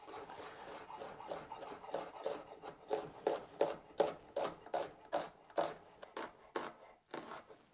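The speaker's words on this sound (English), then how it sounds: "So I'll just do one red onion and one yellow onion, and I'll cut them in half rings." Knife slicing red and yellow onions into half rings on a cutting board, a steady series of crisp, close chopping strokes that quicken into an even rhythm, with no talking.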